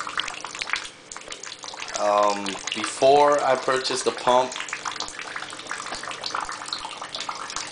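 Water streams steadily into a 44-gallon tub from an RO/DI filtration system with a booster pump, a continuous close hiss running under a man's speech.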